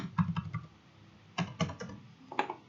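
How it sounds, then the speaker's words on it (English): Clicky keystrokes on a computer keyboard come in short, uneven bursts with pauses between them, close and fairly quiet, with no voices. "so we type here"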